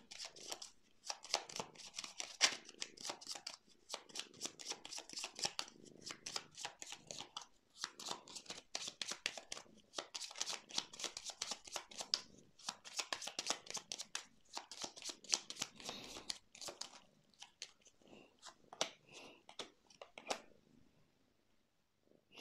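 Tarot cards are shuffled and laid out close up in steady bursts of rapid riffling and flicking, soft and crisp, broken by brief pauses, with no speech.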